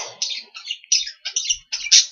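Small birds chirp and tweet outdoors in wet, flooded weather, bursts of bright, close calls repeating in quick phrases with short gaps between them.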